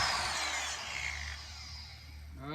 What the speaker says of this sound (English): I'm gonna get my cutoff wheel and I'm gonna cut them U-bolts right there